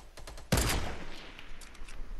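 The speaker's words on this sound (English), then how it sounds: "I almost sniped him" One sharp, loud sniper rifle shot from a Fortnite match cracks out and trails into a short echo, with faint clicks just before it.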